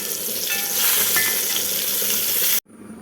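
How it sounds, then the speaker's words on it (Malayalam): Loud, dense sizzling of fish frying in oil with curry leaves, a continuous crackling hiss that cuts off abruptly near the end, leaving quieter background. "ഈ ഒരു മീനും കൂടെ വറുത്തെടുക്കണം അപ്പം കറിവേപ്പിലയൊക്കെ ഇട്ട് വറക്കാൻ വെച്ചിരിക്കുകയാണ്"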